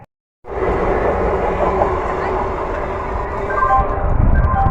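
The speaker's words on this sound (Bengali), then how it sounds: "যা, ট্রেন চলে গেল তো," A train rolls past close by with a loud, sustained rumbling roar that starts abruptly and holds steady, swelling slightly toward the end.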